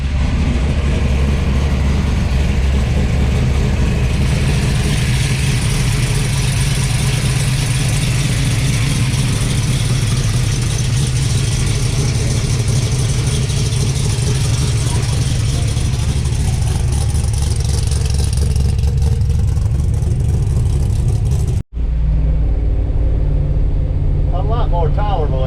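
A Dodge D100 truck with an upgraded X-pipe exhaust idles steadily nearby, a deep continuous rumble with a mellow tone, before the engine cuts off abruptly near the end, leaving quiet room tone.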